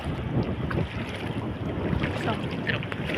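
Wind and sea wash during a boat ride off the coast at Chinchani near Boisar, Tarapur, with steady rushing noise and wind buffeting the microphone throughout, and no voices.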